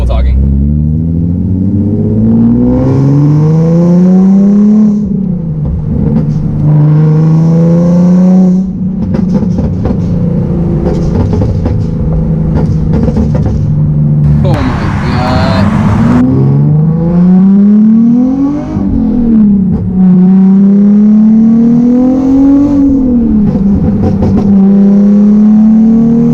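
A loud tuned Nissan 370Z engine revs up and down in repeated rising pulls while driving, a strong rumbling drone throughout.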